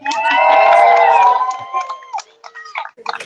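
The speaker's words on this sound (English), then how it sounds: "let's just practice one big loud cheer for our gorgeous groom, Nick." Wedding guests let out a loud, sustained group cheer that fades into scattered whoops and shouts, close and lively.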